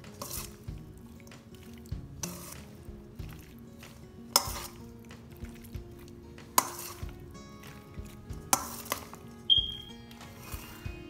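Macaroni salad with mayonnaise and lemon pepper being stirred in a bowl, producing repeated soft squelching turns and clinks of the spoon against the bowl at an irregular rhythm, close and without talk.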